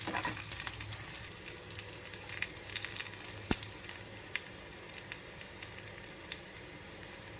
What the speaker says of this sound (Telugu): కొంచెంగా వేయించుకుంటున్నాను ఇక్కడ